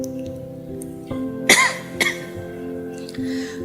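A single sharp cough, close and fairly loud, followed half a second later by a smaller throat-clearing burst, set against a quiet room with a low steady hum.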